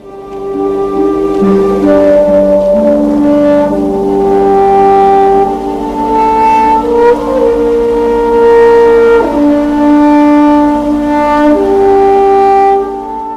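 John Williams' original Binary Sunset score from Star Wars, with sustained orchestral tones and a slow swelling melody played loud and continuously without talking.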